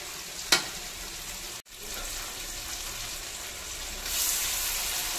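Meat for mandi frying in a pan gives a steady, close sizzle throughout, with a brief click early on and a slightly brighter hiss near the end.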